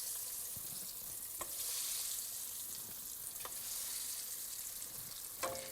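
Tuna meatballs fry in hot oil with a steady, close sizzle and crackle, broken by a few brief sharper pops and a faint clink of a utensil.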